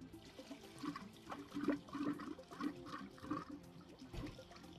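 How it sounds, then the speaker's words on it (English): Water flows into a whole-house filter tank during backwash, a soft gurgling, sloshing stream with irregular bubbly pulses, fairly quiet and continuous throughout. "we're going to slowly turn the water on to allow water into the tank"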